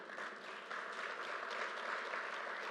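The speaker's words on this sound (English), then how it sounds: "You can clap to that." A large audience at the LaGuardia Airport new terminal announcement breaks into dense, even clapping, a steady crackling wash of hands that holds for about three seconds with no voices over it.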